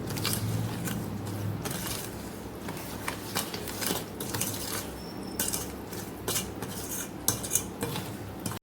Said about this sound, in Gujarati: હવે આપણે આની અંદર લાલ મરચું પાવડર હળદર મીઠું મિક્સ કરી લઈશું